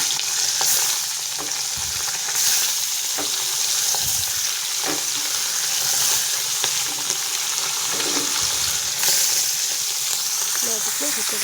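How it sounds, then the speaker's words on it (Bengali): Fish frying in hot oil in a kadai for a mixed-fish curry, a loud, dense, continuous sizzle with crackling pops throughout and a faint voice in the background. "এখানে তেলটা গরম হয়ে গেছে, তো মাছগুলো তুলে দিচ্ছি"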